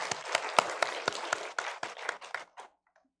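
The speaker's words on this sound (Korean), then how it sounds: "영광의 박수 올려드리겠습니다." A church congregation claps during a Sunday service, a run of scattered handclaps that thins out and stops, leaving a near-silent tail.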